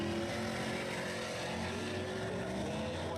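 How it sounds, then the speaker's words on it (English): A Camaro drag car launching on an asphalt oval at a spectator drag event, a continuous loud engine roar with steady droning tones, heard from a distance without a break. "the Camaro just launches again, nice and tidy"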